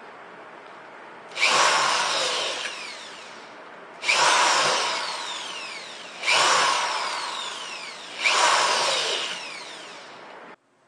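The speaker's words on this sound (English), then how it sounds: "Now I'm just going to drill the holes in this" A power drill bores four holes one after another, each a loud whirring burst of a couple of seconds with brief pauses between.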